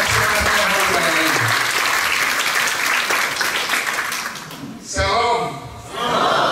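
Loud, sustained audience applause for high school students at a school diversity launch event, a dense wash of clapping with cheering voices that dips briefly near the end before swelling again.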